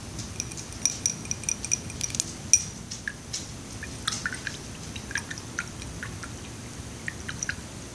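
Small drops of water fall while watercolor paints are being prepared, giving soft, irregular little drips and clicks that are close and quiet, spread over a faint background hiss.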